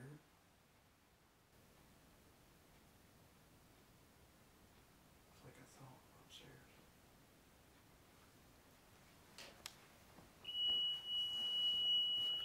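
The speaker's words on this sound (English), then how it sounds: "Why does that alarm keep going?" A high, continuous alarm tone sounds loud and sustained for the final two seconds, preceded by faint rustling and a few soft, hushed sounds in a quiet basement.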